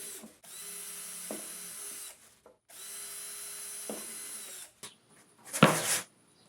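A power drill bores holes into plastic milk jugs for a planter water reservoir, two steady whining bursts of about two seconds each, followed by a sharp crackling rustle of plastic.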